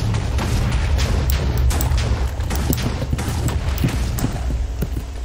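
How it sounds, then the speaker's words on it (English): Guns in a Minecraft 1.20 survival mod fire snowball bullets that burst in small explosions, making a dense, continuous barrage of muffled pops and booms with no talk. "there's a little explosion that serves as a muzzle flash for the guns, and then after the bullet snowballs land, they make a little explosion too"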